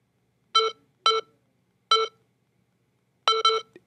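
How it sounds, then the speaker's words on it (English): Five short electronic beeps, bright and clean, spaced unevenly with the last two close together, in otherwise quiet surroundings. "If you just want to hear the beep."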